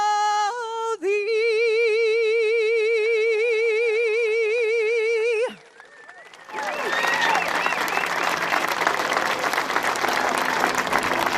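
A singer holds the last note of the Canadian national anthem at a bridge opening ceremony, then after a brief pause a large outdoor crowd breaks into loud, sustained applause with scattered cheers.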